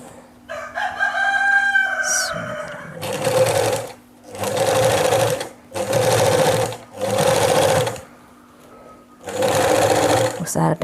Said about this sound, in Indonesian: Dilipat, lalu kita jahit lagi.